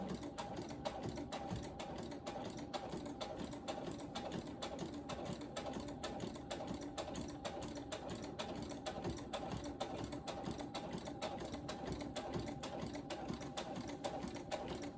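A sewing machine stitches a zigzag on quilt fabric, its needle chattering in a fast, even rhythm that runs on without pause, close and moderately loud.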